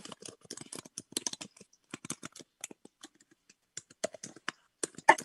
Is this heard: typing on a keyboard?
yes